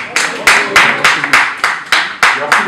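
Short rhythmic bursts of clapping at a press conference, about eight sharp evenly spaced claps, close and loud, with no voices over them.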